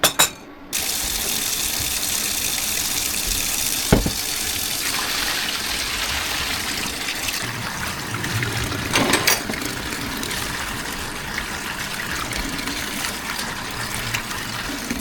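Water gushes steadily from a tap while a pot used for boiling meat for a pork head cheese is emptied and refilled, a loud continuous splashing stream with a sharp clank near the start and another midway.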